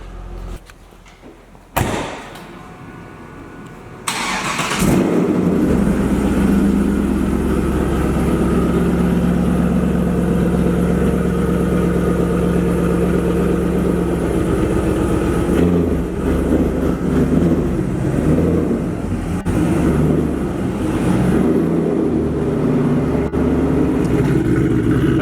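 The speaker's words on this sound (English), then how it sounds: "Well, Tom Henry car's fired up." A 1969 Chevrolet Camaro Z28 302 V8 engine turns over and catches, then settles into a steady, deep, rumbling idle that runs on loudly and close by for the rest of the clip.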